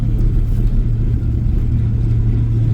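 A truck hauling water in minus-40 cold cruises at about 45 to 50 mph, its engine giving a steady, close, heavy rumble with no talking.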